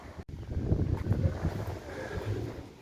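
Steady wind buffeting the microphone outdoors, a low rumbling roar that gusts and swells throughout, with no voices.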